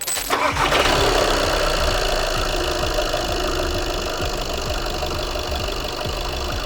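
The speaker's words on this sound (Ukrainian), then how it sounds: "Запускай машину" An Audi Q5 engine cranks and fires at the start, then settles into a loud, steady idle that runs on alone without talk.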